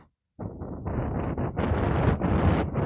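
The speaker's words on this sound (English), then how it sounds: "that's really windy." Strong gusts of wind buffet a microphone on a lakeside walk, a loud, rough roar that surges in uneven bursts after a moment of near silence, with no voices.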